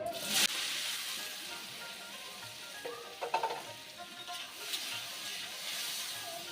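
Potatoes sizzle loudly in hot oil after a sharp splash at the start as they go in, with occasional stirring and scraping in the pan.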